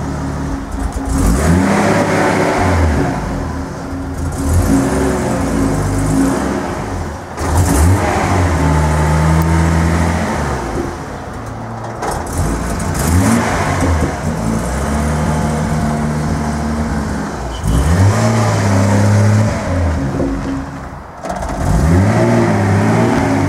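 A Nissan 280ZX engine running Megasquirt tuning revs repeatedly under throttle on a first drive, its mid-pitched note rising and falling in several loud pulls over steady road and cabin noise.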